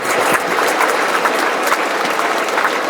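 A school audience in Dharmapuri rises and claps in thanks: a thick, sustained round of applause with scattered sharper claps standing out, loud and unbroken throughout.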